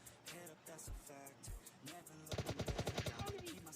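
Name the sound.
gunshots in the video game PUBG Lite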